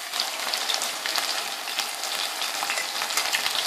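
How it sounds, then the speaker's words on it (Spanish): Green asparagus coated in tempura batter fries in a pan of oil, a dense, continuous crackling sizzle, close and steady with no talk. "escurrimos un poquito y a la sartén. Vamos a ir echándolos todos para que se vayan friendo"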